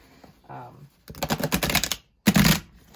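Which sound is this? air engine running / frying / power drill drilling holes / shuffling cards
shuffling cards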